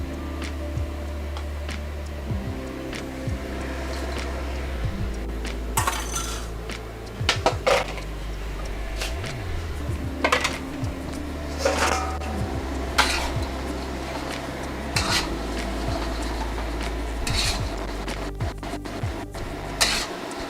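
Crispy tofu is tossed back into a wok for pad Thai and stirred with a metal utensil over low heat, giving repeated clanks and scrapes against the pan under a faint sizzle and a steady background hum.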